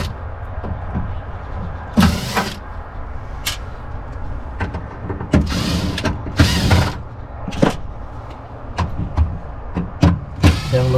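Metal clicks and ratcheting on the big inverter cable terminals of a Renogy 3000W inverter charger in a Patrol, irregular close bursts of clatter with creaks and pauses between.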